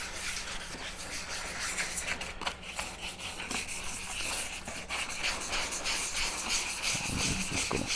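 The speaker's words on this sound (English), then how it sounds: "there's our first rough sand" A plastic headlight lens is wet sanded by hand with 220 grit sandpaper, a close, continuous scratchy rubbing with steady back-and-forth strokes.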